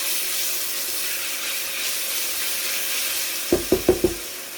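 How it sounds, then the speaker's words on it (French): Onions cooking with a little sugar in a pan give off a steady soft sizzle and hiss, with a quick run of four sharp clicks or taps near the end. "Donc on fait cuire les oignons, juste rajouter un petit peu de sucre, équivalent d'une cuillère à soupe."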